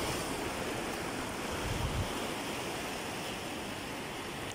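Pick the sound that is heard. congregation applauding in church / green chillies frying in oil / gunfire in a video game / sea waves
sea waves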